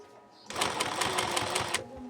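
A sewing machine runs steadily for over a second, stitching piping along the edge of a piece, starting abruptly and stopping with a rapid, even mechanical rhythm close up.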